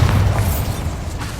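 Bombarda blasting spell in Hogwarts Legacy, a loud, close, deep explosive boom with a rumbling low-end tail lasting over a second.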